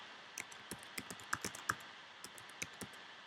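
Keys tapped on a computer keyboard while entering a store name into a font preview, about a dozen fairly quiet, uneven clicks spread across a few seconds with no talking.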